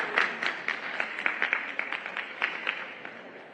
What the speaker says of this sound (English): So round of applause for Dr. Delisa Sanders.